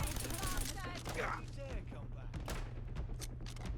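A submachine gun rattles off rapid shots in the video game Fallout London. The short, crackling bursts sit over a low background hum while a voice talks.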